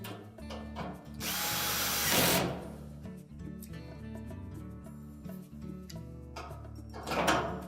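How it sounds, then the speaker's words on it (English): A power drill drives screws into the cross piece of a Whirlpool dryer during a drum roller shaft repair, with two close, loud whirring bursts of the motor separated by quieter handling and tool clatter. "We can then put the two remaining screws in for that cross piece."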